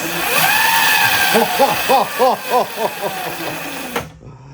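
An upgraded Razor electric scooter motor whines under throttle, rising and falling in quick pitched bursts and pulses before cutting off abruptly, loud and close, with an excited voice talking over it.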